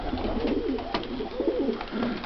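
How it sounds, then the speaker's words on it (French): Racing pigeons in a loft coo in soft, repeated throaty rolls. Several calls overlap close by and sound fairly loud against faint background noise. "Donc Chocodor, c'est tout simplement un pigeon qui s'est classé 88e Nord-Pas-de-Calais sur Montluçon"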